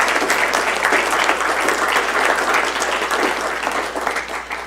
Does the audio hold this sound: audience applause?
yes